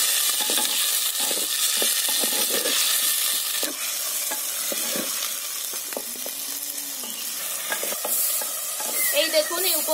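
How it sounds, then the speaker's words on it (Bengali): Chopped tomato and other ingredients fry together in a pan, with a constant sizzle under repeated scraping and clattering stirring strokes, all close and fairly loud. "এবার এতে দিয়ে দিচ্ছি টমেটো কুচি, এগুলো সব একসঙ্গে ভেজে নেব।"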